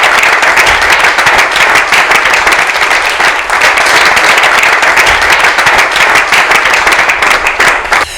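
Loud, sustained applause from a theater audience greeting a guest's entrance at a Lubumbashi event with comedians and actors, dense steady clapping filling the whole stretch with a faint crowd murmur and no break.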